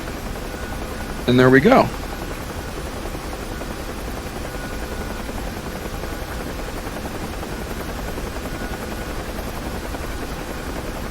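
Rotor of a UH-1H Huey helicopter in the DCS flight game, a steady loud whir and drone filling the whole stretch, with someone speaking briefly over it.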